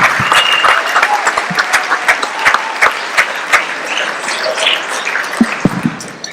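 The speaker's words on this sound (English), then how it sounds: "Please give your first speaker a big round of applause, ladies and gentlemen." Audience applause at a memorial comedy show, a loud sustained burst of many hands clapping close up, with a few sharper claps standing out and no voices.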